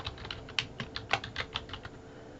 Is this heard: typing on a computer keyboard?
yes